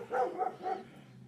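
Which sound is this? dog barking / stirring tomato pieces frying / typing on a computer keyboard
dog barking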